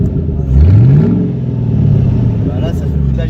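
A Ford Mustang engine revs with its exhaust valve open, rising in a swift climb then holding a deep, throaty drone close by, while people talk over it.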